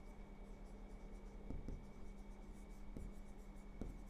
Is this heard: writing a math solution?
yes